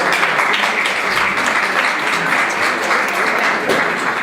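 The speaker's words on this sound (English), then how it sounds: "give her a round of applause for all that she's doing" A conference audience at an Africa policy forum breaks into a round of applause, a loud, dense, continuous patter of many hands clapping that holds steady throughout without any talking.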